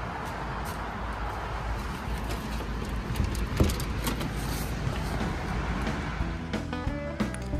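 Traffic and a bus idle and move at a car-oriented suburban train station, a low steady road rumble with scattered clunks and a brief mechanical whine near the end, fairly distant and faint.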